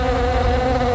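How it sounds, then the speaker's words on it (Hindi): A housefly buzzing loudly and close by, a continuous droning whine with no pauses, heard alone. "मैंने तुझे मक्खी मारने को कहा था"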